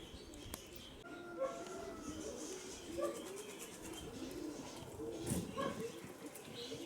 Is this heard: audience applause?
no